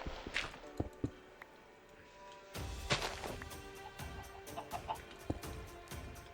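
A Minecraft chicken gives soft, scattered clucks against a quiet in-game background, with faint footstep-like taps between them.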